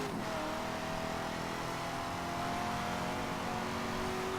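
A tuned Corvette C7 Z06 with about 995 horsepower accelerates in Forza Horizon 3, its engine a loud, continuous high-revving roar that climbs steadily in pitch with no talking over it.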